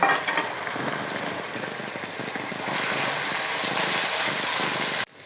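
Finely chopped onions, two large ones, frying in a pan until golden give off a steady, dense sizzle and crackle, close and fairly loud, continuous for several seconds before cutting off abruptly.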